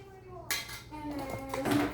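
Dishes and cutlery clink and clatter as they are handled and put away in a home kitchen, a sudden clang followed by ringing knocks, with a voice talking alongside.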